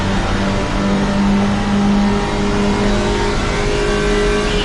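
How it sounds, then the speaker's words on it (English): A race car engine at the ARL Alpine Cup roars loud and close with a sustained droning note, wavering as it sits near the rev limiter, with road noise underneath. "Watch it fall out onto the fucking rev limiter"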